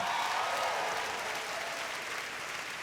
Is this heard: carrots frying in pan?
no